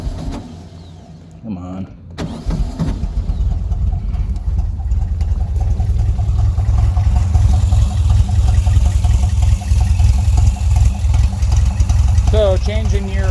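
A VW Volksrod engine fitted with Weber IDF carburetors cranks, fires and settles into a loud, lumpy idle with a steady low throb, close up, while a voice briefly speaks.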